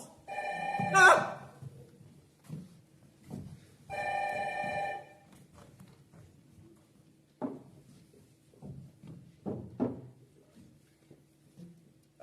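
An old-style telephone bell rings in two loud bursts, followed by scattered handling noises and faint movement.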